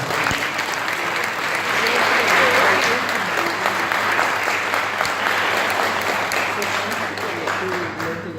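A crowd at a gardening and horticulture society event in Paraguay applauds warmly for a founding member, dense sustained clapping that swells and holds for several seconds before easing.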